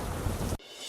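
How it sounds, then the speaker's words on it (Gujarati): Heavy first-season rain in Surat, a loud dense roar of downpour with a low rumble that cuts off abruptly partway through, leaving a fainter hiss. "સુરતમાં પહેલા વરસાદે જ મચાવ્યું તાંડવ."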